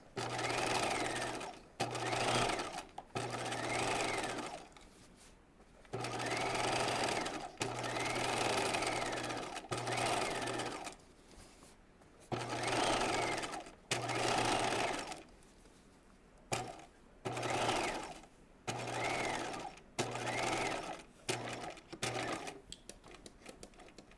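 A domestic sewing machine understitches the facing of a raglan top, running in repeated bursts of rapid, even stitching with brief pauses between, close and clear without talk.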